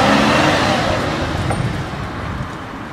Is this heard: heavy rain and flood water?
no